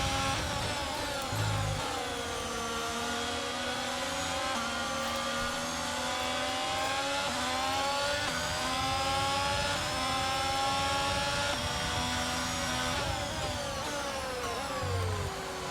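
Formula 1 car engines in F1 2022 scream at high revs on the final lap of a race, a loud, steady whine with pitch swooping down and back up through gear changes and corners, alone without talk.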